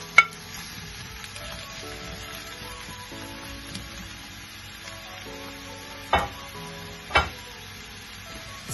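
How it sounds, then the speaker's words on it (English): Vegetables sautéing in a pot for a stew, with a steady soft sizzle and occasional sharp clinks of a utensil against the pot, close and moderately quiet, no voices. "I want to kind of braise or saute my vegetables for a little bit"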